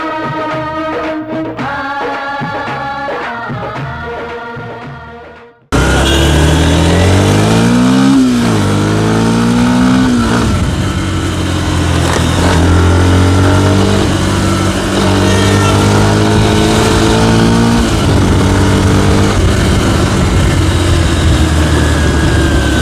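A Yamaha FZS V3 motorcycle with a 149cc BS6 engine is revved hard and loudly, its pitch climbing and dropping through repeated throttle blips over a steady idle. A short stretch of music plays before the engine starts.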